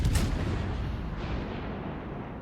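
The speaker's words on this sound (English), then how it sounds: "I reckon we just take a shot." Heavy naval guns of the Graf Spee fire in World of Warships, a deep booming blast that rolls out and decays over a couple of seconds, loud and alone with no voices.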